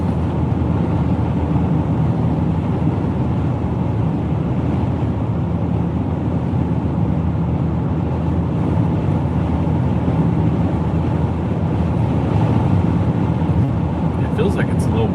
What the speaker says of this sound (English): It feels like it's a little windy out here right now.